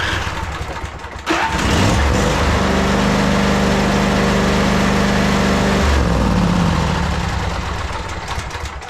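A 2011 Craftsman PYT 9000 lawn tractor engine cranks, then catches about a second in and runs loud and steady at a rough mid-pitched idle for several seconds before winding down and fading, close by and with no talking.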